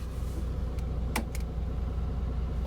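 The driver's seat of an Iveco Crossway Pop bus is adjusted for height, giving a couple of short sharp hissing clicks over the quiet hum of the idling bus.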